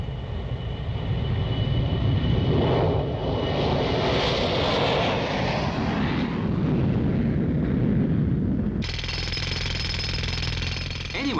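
A loud, continuous roar of mid-1960s jet aircraft engine noise rumbles steadily and swells slightly at its peak. It then shifts abruptly into a harsher, buzzing mechanical drone near the end.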